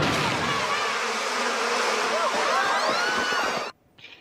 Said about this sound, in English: They even got the murder hornets.